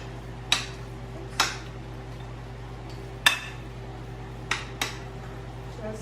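A utensil clinks a few times against a bowl while frozen vegetables are mixed in for chiles rellenos: sparse, sharp, close taps spread over several seconds, with a steady low hum underneath and no talk.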